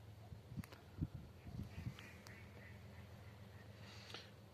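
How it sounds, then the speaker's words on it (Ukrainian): Faint, distant quacking from a duck comes in a short burst of low calls over steady outdoor background noise while fishing in rain and rising wind. "Качечка кричить."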